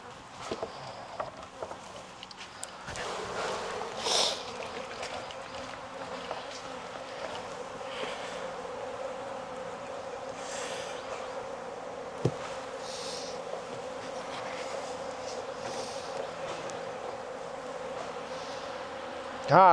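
Honey bees buzz in a steady, moderately distant drone while frames are shaken into another hive in a Florida apiary, with occasional light knocks and rustles over the swarm's hum.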